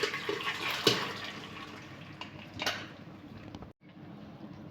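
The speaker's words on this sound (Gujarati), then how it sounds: "એક કાણાવાળું વાસણ લઈશું, તેમાં આપણે પાણી બધું જ નિતારી લઈશું." Water from boiled wheat drains through a perforated colander, a continuous splashing gush with a couple of sharper clatters before cutting off briefly near the end.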